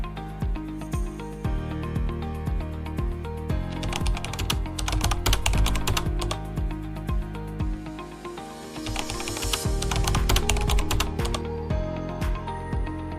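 Steady typing on a computer keyboard while an email address and password are entered at a login page, with clicky keystrokes in irregular bursts over a soft musical background, no voices.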